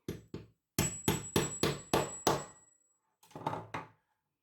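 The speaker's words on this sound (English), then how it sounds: "then I think I just hammer" A series of sharp hammer blows: two quick taps, then a run of six evenly spaced heavy strikes, a pause, and three more closely spaced hits.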